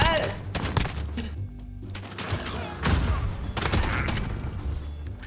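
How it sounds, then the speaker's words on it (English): Shotgun fire in a Call of Duty: Modern Warfare match, several loud booming shots and a rapid fusillade in quick bursts over continuous game ambience and thuds, with someone talking over the action. "if they're using the shotgun, we gotta use the shotgun"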